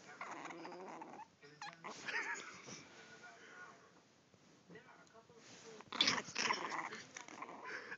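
A temperamental brown chihuahua cornered indoors growls and whimpers in short bursts, close by, with people talking over and between the sounds.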